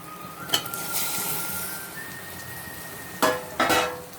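Onions frying in oil for kara kuzhambu, a steady soft sizzle with a few metallic clinks of a spoon stirring against the pan, close and without talk.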